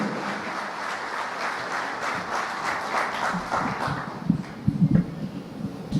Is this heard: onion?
no